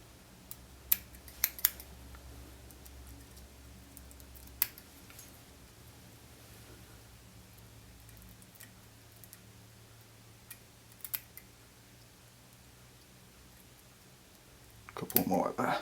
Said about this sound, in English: We can just trim off these longer fibres.